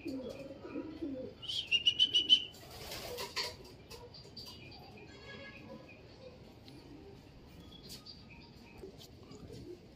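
A single bird, likely a pigeon, gives a brief burst of high chirping calls early on, followed by a soft noisy rustle and then a quiet, faint background.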